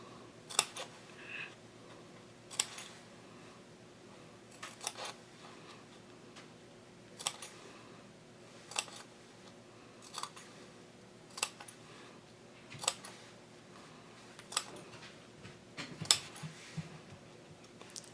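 Scissors make a series of sharp, isolated snips in a quiet room, spaced a second or two apart, as fabric is clipped around sewn curves of a messenger bag.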